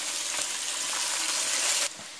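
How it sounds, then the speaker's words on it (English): Cooking oil sizzles in a pan beside a pot of boiling water while linguine is prepared, a steady, close hiss that runs without pause and drops off abruptly near the end. "I have my pan here that is just ready for my cooking oil"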